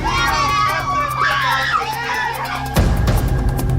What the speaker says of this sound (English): Huge crowd. This is the biggest crowd that has been here.